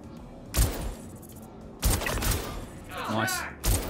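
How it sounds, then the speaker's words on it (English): Gunfire in the space game Star Citizen: three sharp, loud shot bursts spaced about a second apart, with a short warbling tone between them and a player's voice talking over parts of it. "The shooting felt punchy and responsive"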